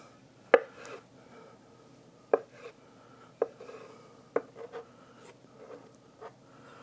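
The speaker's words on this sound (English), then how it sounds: "So we can take some slices of egg" Hard-boiled eggs being sliced on a board for macaroni salad: five or six sharp knife taps spaced about a second apart, each trailed by soft scraping, quiet and close with no talk.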